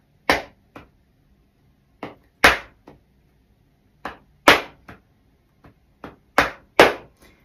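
Hands slapping on legs in a tapping rhythm pattern, sharp dry pats in small groups of two or three separated by short pauses, close and alone.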